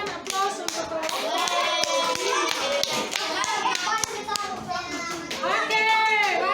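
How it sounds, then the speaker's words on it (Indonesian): Sharp hand claps ring out in uneven bursts of classroom applause while children's voices chatter and call over them. "berikan aplaus untuk kelompok"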